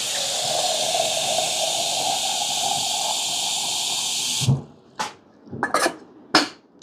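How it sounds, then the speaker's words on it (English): Water rushes and hisses steadily into the chamber of a Sonic S7 manual lever espresso machine, then cuts off abruptly, followed by a few sharp metallic clanks and taps. "again I will fill the chamber with water, right, just to keep the group warm."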